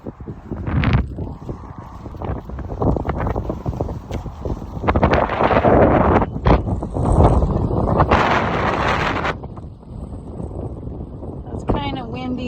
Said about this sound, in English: It's kind of windy, so windy days.